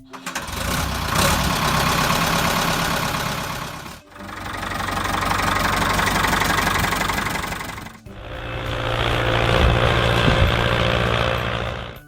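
Ford 5000 tractor engine running steadily, a loud continuous mechanical drone in three sections with brief cuts between them, no voices.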